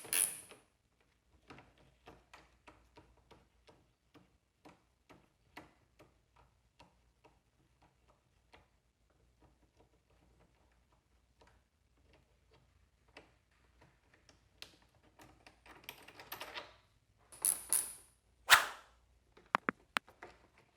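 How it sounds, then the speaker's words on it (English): Torx bolts come off a Harley-Davidson Road Glide fairing: sparse ticking ratchet and tool clicks spaced through quiet, then a cluster of sharper metallic clacks and knocks toward the end, fairly close. "from here we're gonna be removing this Torx bolt here."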